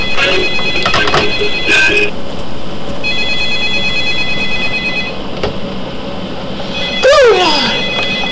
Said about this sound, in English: Oh, get the phone.